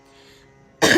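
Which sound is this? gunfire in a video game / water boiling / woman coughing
woman coughing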